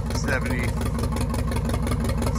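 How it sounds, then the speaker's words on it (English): A 73-year-old McCormick WD9 tractor engine runs at a steady, throbbing idle close by, with someone talking over it. "73-year-old tractor"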